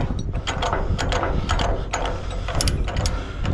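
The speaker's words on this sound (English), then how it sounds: "Always wind the binders in, protect those threads during travel." Ratchet load binders are wound in on a triple road train in Western Australia, giving a steady series of loud, close metallic ratcheting clicks in an uneven rhythm with no voices.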